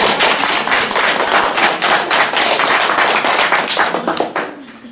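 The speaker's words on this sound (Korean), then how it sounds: "정말 수고 많이 하셨고 서로에게 박수 한번." Participants at the close of a Dominican formation course applaud one another, a brisk burst of close hand clapping that stays loud for several seconds, then tapers off quickly toward the end.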